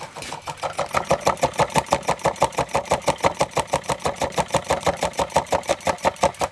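A restored half beam electromagnet model engine running on 6 volts chugs with a quick, steady, even beat of mechanical pulses, close and fairly quiet, with no talking.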